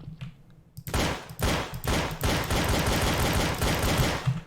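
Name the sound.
gunfire in a video game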